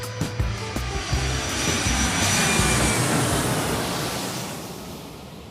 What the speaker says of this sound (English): Flight crew, prepare for takeoff.